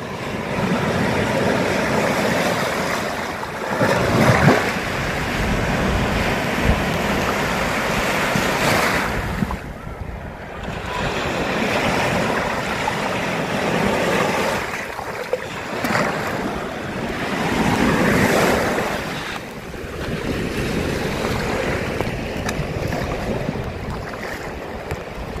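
Stormy sea surf crashing on the beach at Playa de Palma, with strong gusting wind buffeting the microphone, waves surging and receding in loud repeating roars, no voices.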